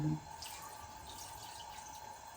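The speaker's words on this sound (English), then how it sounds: "Let's add water to it." Water poured from a tap into a pot of steaming meat on a stove, a thin steady trickling stream that runs on evenly after a brief bump at the start, close and moderately quiet.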